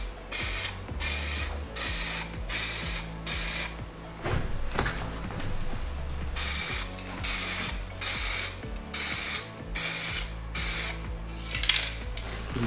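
A rattling spray can mists paint over a BMW steering wheel trim piece in repeated short hissing bursts, each about a second long, with brief gaps and clicks between them, close up and steady.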